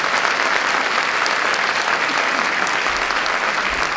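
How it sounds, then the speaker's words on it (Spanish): A conference audience claps at the end of a talk. The dense, sustained applause fills the room evenly and loudly for several seconds without a break, and no voices rise above it. "Un aplauso muy fuerte."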